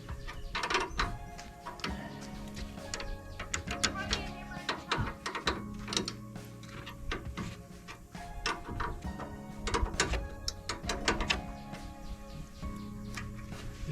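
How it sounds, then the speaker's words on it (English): A ratchet works loose the nuts holding a brake caliper on a trailer, a busy run of rapid clicks and metallic clanks repeating at close range over a faint background hum. "we're going to loosen these nuts here that hold this caliper on"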